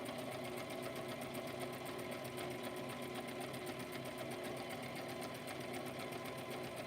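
A sewing machine stitches a silk lining for a fabric cover, its steady, fast, even motor hum and needle rattle running close and unbroken throughout, with no speech.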